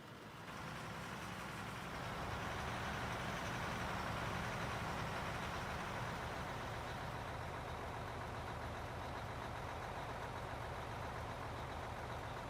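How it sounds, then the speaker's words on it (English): A heavy dump truck engine in the mining video game Out of Ore rumbles steadily at a constant level, a continuous low idle-like drone with no talk over it. "I can dump that truck for you."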